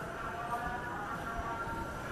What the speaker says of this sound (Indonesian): Saat KRL tujuan Tangerang berangkat